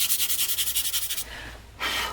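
Pastel is rubbed by hand to blend a landscape drawing, with about a dozen quick rhythmic scrubbing strokes, then a short pause and a final broader rub, close and fairly loud.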